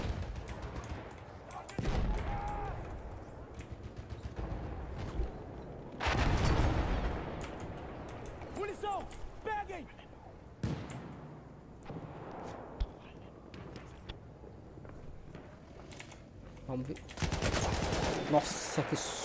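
Bombs dropping and gunfire in the video game Battlefield 1: repeated bursts of machine-gun fire and heavy booming blasts, some loud and close, others more distant, with a player talking quietly between them.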